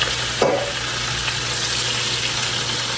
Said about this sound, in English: Ooh, I hear it frying already.